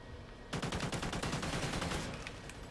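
Call of Duty Ghosts gunfire tearing through a brick wall, a rapid burst of loud cracking shots in fast rhythm that starts abruptly and carries on for about two seconds before tapering, close and with no talk.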